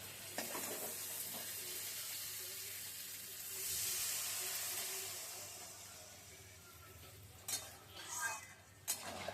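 Water poured onto a fried spice paste in hot oil sets off a soft hissing sizzle that swells and fades, followed by a few sharp clinks of utensils against the pan, faint and close.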